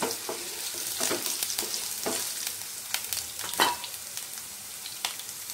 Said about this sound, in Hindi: पोटैटोज़ को हमें बीच बीच में स्टर करते हुए गोल्डन ब्राउन होने तक फ्राई करना है